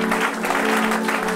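Loud, continuous clapping and cheering from a congregation during a church worship service fills the space, with a sustained musical tone running underneath.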